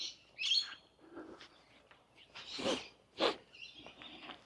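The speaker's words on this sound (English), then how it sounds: "Some birds up there." Myna birds in the tree canopy along a walkway in Innisfail give scattered chirps and sharper calls at moderate distance, with brief pauses between them in a quiet outdoor setting.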